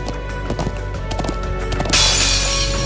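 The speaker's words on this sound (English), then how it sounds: "I'm glad I still remember how to ride a horse." Horse hooves gallop in the video game Trails of Cold Steel II, a rapid clip-clop rhythm over a steady game background, with a rushing wind-like swell near the end.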